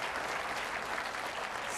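A brief, dense burst of audience applause at a student quiz competition, an even wash of clapping with no clear individual claps.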